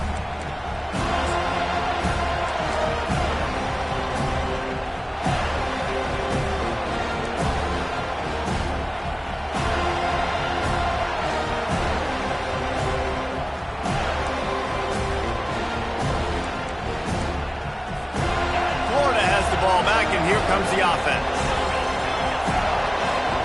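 A stadium crowd at a football game roars steadily and loudly enough to force a false start, a dense continuous wall of noise with a commentator talking over it.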